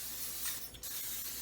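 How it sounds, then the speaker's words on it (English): Cooking spray hisses onto a griddle pan in a steady, soft burst that runs through the short moment with no talking. "So I'm going to spray my griddle pan."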